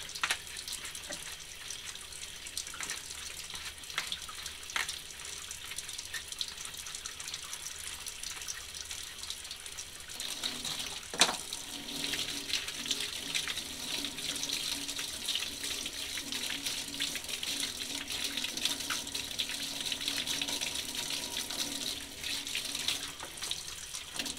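Tap water runs steadily into a sink while a paint brush is rinsed under it. The flow is soft and continuous, growing a little fuller and louder partway through, with occasional splashes and knocks.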